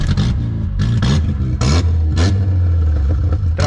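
A Fiat Palio with a broken clutch and failing gearbox revs loudly up close, its engine roaring and surging in waves with rough clattering and scraping, nearly continuous across the stretch.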